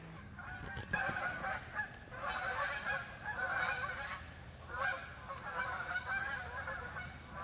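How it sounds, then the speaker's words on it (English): A flock of geese honks repeatedly in overlapping bursts, fairly close and loud, with steady background noise underneath. "Get some geese there."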